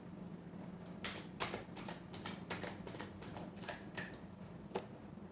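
A deck of tarot cards is shuffled in a quiet room, giving faint, quick riffling and tapping clicks in short irregular clusters.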